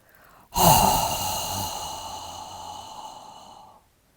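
A long breathy exhale voiced as a qigong healing sound, beginning sharply and fading gradually over about three seconds, close and alone.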